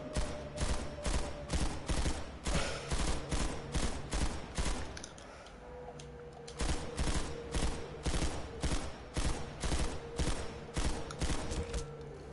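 Rapid, evenly spaced shots from a Planetside 2 weapon fired from the hip at about 750 rounds per minute come in long, loud sustained strings, with a brief pause for a reload midway before firing resumes.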